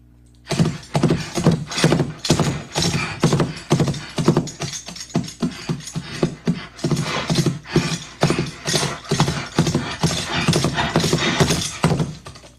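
Foley horse hoofsteps clop in a steady, close rhythm, layered with jangling bridle and occasional horse snorts, loud and continuous with no voices.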